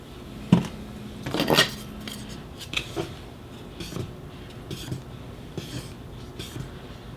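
Two-part A and B silicone being mixed in a clean plastic tub, with scraping, knocking clatters of the stirring tool against the tub sides, a busier burst early on then steady light scraping.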